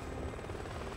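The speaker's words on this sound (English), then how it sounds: "Why is the helicopter looking inside the house?" A helicopter in Resident Evil whirs steadily nearby, a continuous rotor drone hovering close to a house, with no voices.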